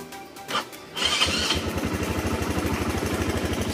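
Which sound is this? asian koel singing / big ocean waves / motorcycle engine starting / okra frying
motorcycle engine starting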